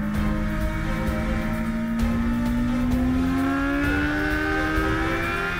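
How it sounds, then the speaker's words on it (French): A Honda CBR 1000 RR SP superbike accelerates hard out of the pits at the Losail circuit, its engine note climbing steadily through the gear, loud and close throughout. "il sort des stands très vite pour arriver au premier virage à peu près à la vitesse où il aurait été après son freinage"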